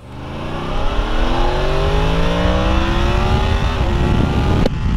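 A 2018 Yamaha MT-10 sport motorcycle's high-revving engine climbs steadily through the gears, pitch rising with each shift, loud and close as it accelerates hard on a twisty road.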